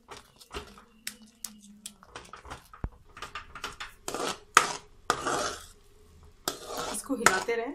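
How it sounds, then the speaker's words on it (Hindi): A spoon stirs and scrapes besan halwa with milk in a pan, giving intermittent close scraping strokes with a soft sizzle between them. "इसको हिलाते रहें वरना ही नीचे लग जाएगा।"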